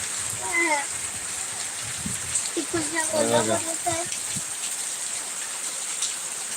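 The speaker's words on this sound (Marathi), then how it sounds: "किती जोरदार पाऊस चालू आहे" Heavy rain falling steadily in a wash of hiss beneath a voice speaking excitedly close by.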